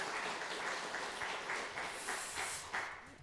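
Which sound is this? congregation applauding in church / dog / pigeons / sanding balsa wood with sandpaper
congregation applauding in church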